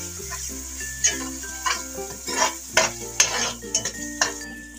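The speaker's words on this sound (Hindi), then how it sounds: "अदरक लहसुन को भी अच्छे से भून लेंगे।" Ginger garlic paste frying in a pan while being stirred for an egg biryani, with a steady low hum of cooking beneath repeated close scrapes and clanks of the spoon against the pan. Nobody speaks.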